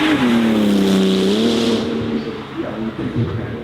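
A Lanzanti 935 race car converted for road use accelerates hard up a hill, its loud engine note rising in pitch through the gears, close and alone, then fading slightly as it pulls away.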